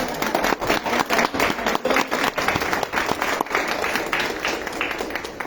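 Applause from the audience at a book launch in Peru, for an electoral dictionary in plain language. Dense, loud clapping fills the whole stretch with sharp individual claps standing out, steady without pause.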